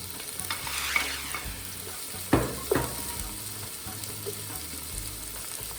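Cumin seeds fry and sizzle steadily in a pan for a Sri Lankan chilli crab curry, with a few sharp scrapes and knocks of a spoon stirring them, close and fairly quiet.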